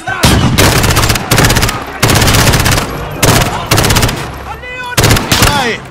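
Heavy automatic gunfire in the video game Call of Duty: Modern Warfare (2019) rattles in loud, sustained bursts broken by brief pauses, with shouted voices heard between volleys.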